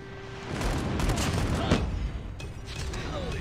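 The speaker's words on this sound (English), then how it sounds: "Friendly airstrike incoming." Friendly airstrike explosions in a military shooter game: a cluster of heavy booms and rumbling blasts overlapping, mixed with distant gunfire under a continuous noisy wash.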